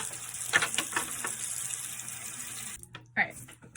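Warm water runs from a tap into a sink in a steady hiss, with brief clinks and splashes and a short break near the end; a voice talks faintly underneath.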